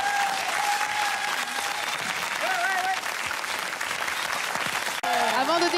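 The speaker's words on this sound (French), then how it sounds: "on peut les applaudir encore plus fort" A live television studio audience applauds young singers at a Mozart rock opera show, steady dense clapping throughout with a few voices calling out over it.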